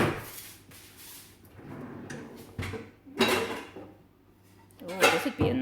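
A non-stick fry pan is pulled from a cabinet under a dishwasher, with clattering metal knocks and cupboard rattles coming in several close, fairly loud bursts.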